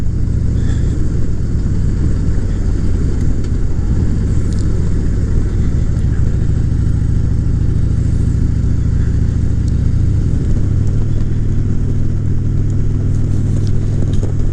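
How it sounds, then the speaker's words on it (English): A motorcycle riding on a South Carolina road gives a loud, steady engine rumble with wind roar throughout, the tone dropping slightly near the end as it slows down to stop for gas. "I'm going to slow down and stop and get some gas"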